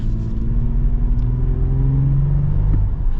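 A 2024 Toyota 4Runner SR5 engine pulls under acceleration, heard from inside as a steady loud low rumble with a rising drone and no talking.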